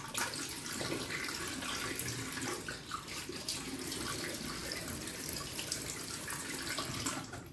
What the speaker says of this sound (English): Splash with cold water.